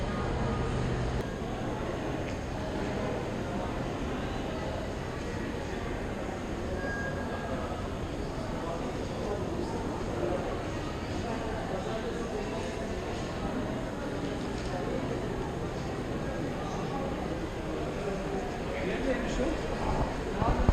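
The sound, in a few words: train station ambience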